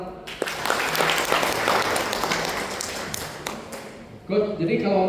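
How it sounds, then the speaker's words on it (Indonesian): Applause from participants at a sports strength and conditioning coach training session, a dense burst of clapping for about four seconds that fades, followed by voices talking. "Tepuk tangan."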